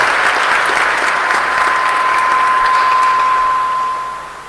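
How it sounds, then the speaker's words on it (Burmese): Wedding guests clap together in sustained, dense applause that stays loud for about four seconds, then fades toward the end, with no voices over it. "အပရိသတ်ပေါင်းတို့မှလည်းလက်ခုပ်ဩဘာပေးလျက်ကြိုးစိုးဂုဏ်ပြုကြရအောင်"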